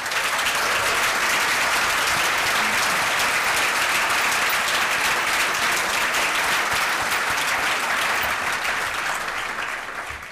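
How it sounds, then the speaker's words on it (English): A crowd at a Boston Latin School annual dinner claps in a long, steady, full round of applause from many hands, tapering slightly at the close. "let's take a moment to applaud this extraordinary member of our Latin school family"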